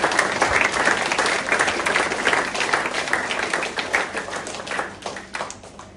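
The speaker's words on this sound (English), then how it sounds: "So I want everyone to give a round of applause to all the committee members." A crowd applauds committee members at a junior cricket club's end-of-season presentation, dense steady clapping filling the whole stretch and tapering slightly near the end, with no voices over it.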